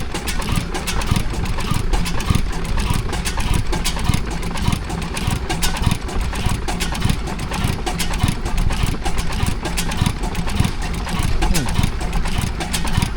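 Vintage stationary engine running at a steam and craft fair at Netley Marsh, a steady rhythmic chugging idle thumping evenly throughout, with people talking nearby.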